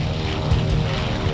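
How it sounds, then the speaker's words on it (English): Propeller-driven B-25 bombers roar as they take off from the aircraft carrier Hornet, a steady, loud, close engine drone with no voices. "16 planes took off, with Doolittle in the lead."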